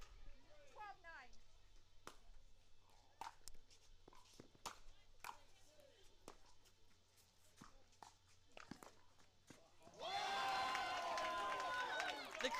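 Spectators at a 2023 Major League Pickleball match in San Clemente break into loud cheering and applause, a sudden broad roar swelling up after quieter rallying with sharp paddle pops and soft crowd murmur.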